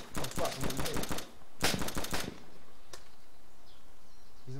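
A sniper rifle and other gunfire in a shooting video game crack out as a quick cluster of sharp shots, then a single later report, close and loud, followed by quieter game ambience.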